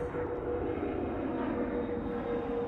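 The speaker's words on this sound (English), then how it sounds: "Looks like we have another Dreamliner." Boeing Dreamliner airliner at Toronto airport, a steady broad jet roar with a faint whine, distant-to-moderate and continuous.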